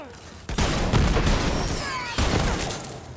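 Borderlands 3 gunfire, played as the character Zane, bursts in loud repeated volleys of shots and explosive impacts, with a second burst partway through, while voices talk faintly underneath.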